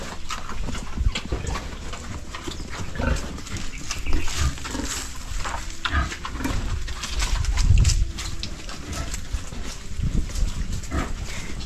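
Pigs and piglets on a farm grunt and snuffle close by, with dense, continuous low grunting and scattered squeals over steady background noise.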